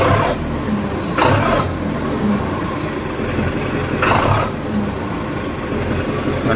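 A 2017 diesel tractor runs steadily just after starting, with a close, loud rumble and two brief surges in revs.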